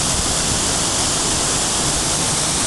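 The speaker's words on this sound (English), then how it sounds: "And the waterfall." Waterfall at Montezuma on Costa Rica's Nicoya Peninsula, a dense, loud and unbroken roar of falling water, close and steady throughout.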